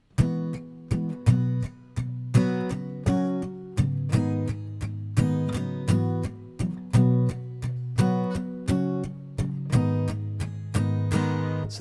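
Acoustic guitar strumming a steady eighth-note groove of chords, heard alone with regular, evenly spaced strokes and accented downbeats.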